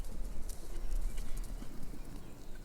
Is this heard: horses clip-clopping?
yes